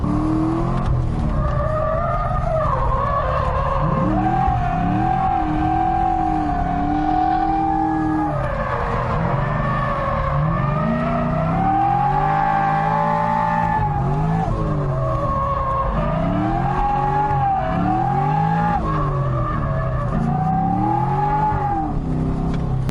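A 489 whp C6 Corvette drift car, its engine revving hard and rising and falling in pitch through the whole run while the tires squeal and skid, loud and close.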